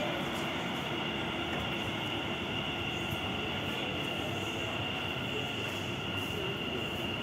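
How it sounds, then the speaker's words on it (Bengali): A metro train rumbles steadily close by, with a sustained whine and faint squealing wheels as it rolls into an underground station on a line running beneath the Ganges river. "ট্রেন ঢুকছে, আপনারা দেখতে পাচ্ছেন ট্রেন ঢুকছে।"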